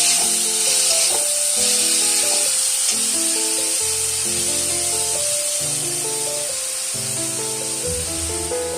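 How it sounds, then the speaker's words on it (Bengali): Minced mutton sizzles loudly in a hot pan while a spatula stirs it. Steady frying hiss runs throughout with bursts of scraping and stirring, and tonal music plays underneath. "এটার মধ্যে কিমাগুলিকে ঢেলে দিলাম। আবার একটু নেড়ে নিলাম।"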